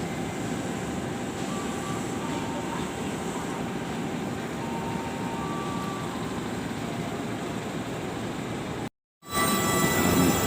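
Jakarta KRL commuter train heading off toward Ancol and Tanjung Priok, a sustained rolling rumble with light wheel squeal, broken by a brief cut before the noise returns.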